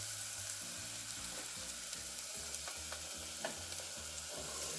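Rinsed soybeans and meat stirred in a sizzling pan for Mexican pizza filling, a continuous close hiss of frying under rhythmic scraping strokes.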